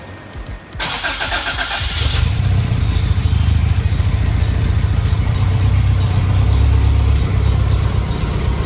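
A Toyota AE86 engine cranks and catches, then settles into a steady, loud idle with a low rumbling throb that continues to the end.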